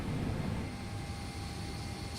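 Steady broadband rush of air flowing through a Boeing 777 cabin from the air-conditioning packs, a loud, even hiss with low rumble that continues unchanged throughout.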